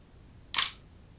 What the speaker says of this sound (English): you'll hear it and you'll see the mirror move and block the viewfinder